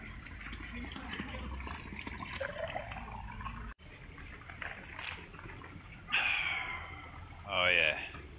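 Steady rush of flowing, splashing water from a town fountain in Matsumoto, Japan, with a couple of louder gushing surges near the end and faint voices in the background.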